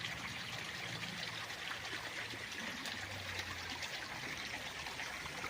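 Small creek trickling at the boundary of a farm lot beside a highway in Siniloan, Laguna, giving a soft continuous babble with steady faint water hiss throughout and a low hum underneath.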